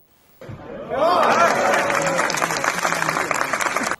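Applause breaks out at an official event with a chief justice present, a dense sustained clapping from a crowd that starts abruptly and keeps going, with some chatter mixed in.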